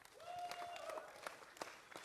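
Applause from an audience at the close of a university Great Ideas pitch competition, a soft, fairly distant patter of clapping with a faint voice and a brief tonal whine over it.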